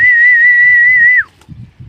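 A pigeon keeper's steady, high, clear whistle held for over a second then sliding down and cutting off, with soft low bird or background sounds following.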